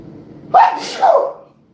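A single loud, close human sneeze, a quick sharp intake followed by a forceful burst lasting about a second, with no other sound around it.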